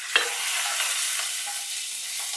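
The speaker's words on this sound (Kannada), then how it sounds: "ಇವಾಗ ಹಸಿಮೆಣಸಿನ್ಕಾಯಿ, ಶುಂಠಿ, ಬೆಳ್ಳುಳ್ಳಿ, ಕರಿಬೇವಿನ ಸೊಪ್ಪು ಇದನ್ನೆಲ್ಲ ಹಾಕ್ಕೊಂಡು ನೀಟಾಗಿ ಫ್ರೈ ಮಾಡೋಣ." Green chili, ginger, garlic and curry leaves hit hot oil in a pan for tomato bath, giving a sharp initial crackle that settles into a steady loud sizzle with faint stirring.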